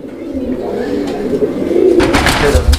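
Low, rolling pigeon coos murmur steadily close by, with a few brief rustles and knocks near the end.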